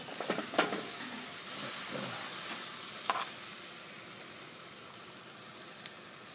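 Coke-marinated chuck steak laid over hot coals on a modified Old Smokey 22-inch charcoal grill, a faint steady sizzle and hiss with a few small clicks and taps scattered through.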